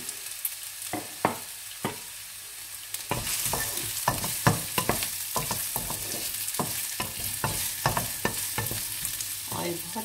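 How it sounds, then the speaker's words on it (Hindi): Onions fry in oil close by, a bright steady sizzle that swells after a few seconds, punctuated by frequent sharp stirring scrapes and clicks, with no voices. "प्याज ऐड करूँगी ऑयल में,"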